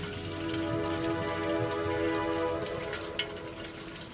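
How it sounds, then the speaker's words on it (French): Rainwater from an overflowing gutter falls steadily as a constant splashing patter, moderately close, with a few louder drips toward the end and no voices. "elle vit que la gouttière débordait et qu'il en tombait un grand jet d'eau de pluie"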